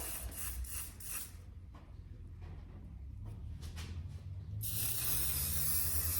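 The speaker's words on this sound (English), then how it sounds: "With some olive oil spray, just so that it doesn't stick to my dough." Short hissing bursts of olive oil cooking spray onto cling wrap at the start, then quiet rubbing and handling sounds, followed by a louder sustained spray hiss.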